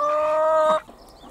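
A hen in a hen house gives one drawn-out, nasal call lasting under a second, followed by quiet rustling.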